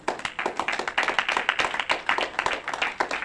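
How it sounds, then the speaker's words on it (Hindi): A church congregation claps hands loudly together at a worship service, sharp rhythmic slaps repeating in a fast steady beat, close and energetic throughout with no talking. "जोरदार ताली बजाइए।"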